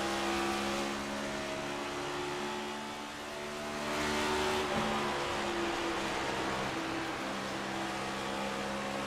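Race cars in a Bluegrass Cup Series playoff race roar around a track, a dense steady engine drone with revving pitch that swells and fades slightly as the cars pass.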